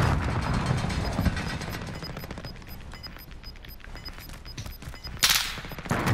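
Sniper rifle fire in the video game Warzone, a 2v3 match: a busy game mix of rapid clicking mechanisms and scattered gunshot cracks, with one louder burst near the end, no speech.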